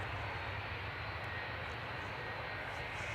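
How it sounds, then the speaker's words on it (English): An Emirates Airbus A380 airliner at Manchester Airport gives off a steady, even engine roar. It sounds distant and continuous, with no talk over it. "The A380 is here."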